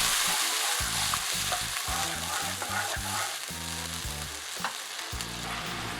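Meatballs and onion fry in a sweet and sour sauce in a wok or pan, a loud constant sizzle broken by choppy stirring clatter, all close up with no talking.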